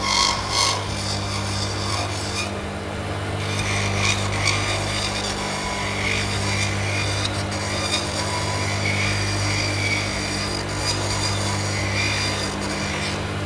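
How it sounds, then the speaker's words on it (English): A dental handpiece trims an acrylic denture base plate, a steady close whine with rough grinding and rubbing as the bur cuts along a marked line. "for fine finishing and trimming of acrylic, we use a handpiece"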